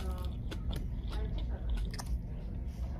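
Close, wet chewing and biting on a chunk of beef rib eaten with onions and green pepper in an Ethiopian meal, steady mastication with soft crunches and no talking.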